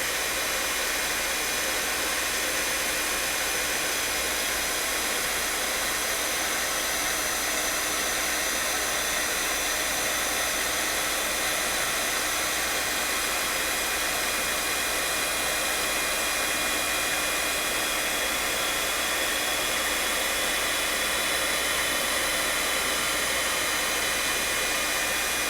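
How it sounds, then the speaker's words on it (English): An embossing heat tool blows hot air onto stamped embossing powder, a loud, steady fan-driven roar that holds at one level throughout with no pauses and no talk. "I'm going to keep my heat tool there until I start to see my powder turn into a solid"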